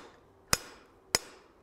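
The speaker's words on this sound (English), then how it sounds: "a couple real big hammer blows to set that." Two sharp, loud hammer blows strike about half a second apart, each ringing briefly as a cold pin is set in the riveted joint of forged box jaw tongs.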